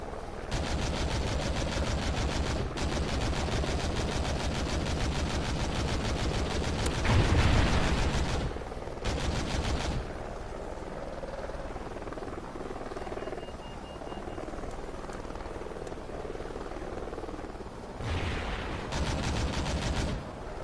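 Helicopter rotor thumping steadily in a video game, with bursts of gunfire rattling over it, loudest around the middle and again near the end.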